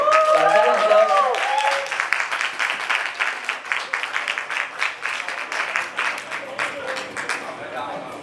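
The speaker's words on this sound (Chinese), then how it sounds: "掌声掌声。" Audience applause greeting a performer on stage, a burst that starts full and thins into scattered, uneven claps, with a brief voice or tone near the start.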